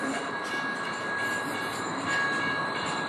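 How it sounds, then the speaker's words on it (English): An Incheon tram passes at night, a steady, loud rail rumble with a faint metallic whine, swelling slightly near the end as it rolls by nearby. "that's also one of the Incheon trams."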